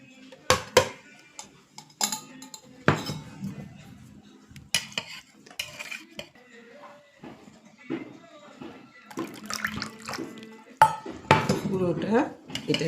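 A spoon stirs a small mixture for an orchid-care remedy in a small bowl, giving bright metallic clinks and taps in irregular bursts. Close and crisp, with a voice talking between and over the clinking.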